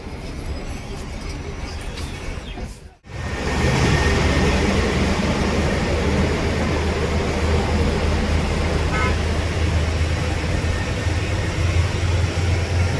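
Heavy road traffic on the Thoppur Ghat mountain road, heard from inside a bus on the Salem to Shimoga route: a loud, continuous roar of engines and road noise with a brief dip near the start, then steady rumbling throughout.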